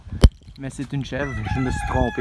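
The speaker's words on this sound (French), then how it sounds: "il y a un maudit coq qui crie" A rooster crows at the Magog-Orford campground farm area, its strained call mixing with someone talking over it after a sharp knock at the start.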